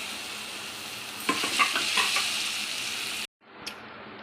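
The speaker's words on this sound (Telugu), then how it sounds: "ఇప్పుడు మనం కడిగి పెట్టుకున్న అటుకులు వేసేసుకుందామండి." Washed flattened rice (poha) tipped into a hot pan and stirred, producing a steady close sizzle with a few scraping stirring strokes, then a brief cut to quiet before a faint clink.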